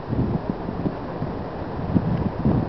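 Steady outdoor wind buffets the microphone in a low rumbling wash with gusty swells, continuous throughout with no voices.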